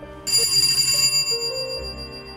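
A phone rings loudly and close, a bright repeating electronic ringtone starting abruptly and sounding steadily for about two seconds with no voices over it.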